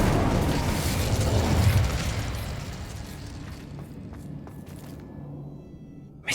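An Incendio fire spell cast in Hogwarts Legacy gives a loud, rushing burst of flame and crackle that fades over several seconds into quieter rumble, ending in a brief sharp pop, with no voices.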